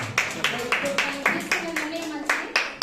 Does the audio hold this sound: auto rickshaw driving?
no